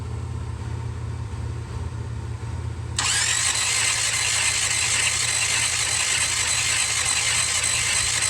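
The engine of a 1966 Buick Riviera GS cranks during a compression test, a low rhythmic starter churn that is joined partway through by a sudden louder, steady hissing rush.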